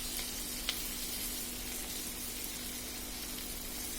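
Sweet pumpkin slices frying in oil in a pan, a steady moderate sizzle with a brief tap of a utensil early on, no talking.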